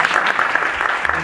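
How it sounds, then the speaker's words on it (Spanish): A lecture audience claps for the speaker at a talk on victims' rights in Mexican criminal law, a brief burst of dense, fairly loud applause with voices mixed in. "Les pido un fuerte aplauso para el maestro"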